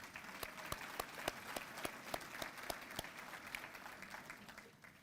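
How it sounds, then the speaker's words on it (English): Applause for veterans at an appreciation luncheon, a steady wash of many hands clapping at moderate distance, with sharper individual claps standing out and no talk over it. "a huge thank you and a big round of applause for you as well."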